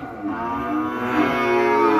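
Cattle at a cattle farm lowing in one long, loud, sustained moo that swells slightly toward the end, close by and alone.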